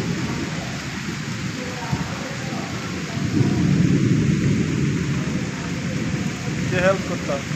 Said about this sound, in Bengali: দূরে দূরে বাতাস, আর যে গর্জন মারা, যে বৃষ্টিও হচ্ছে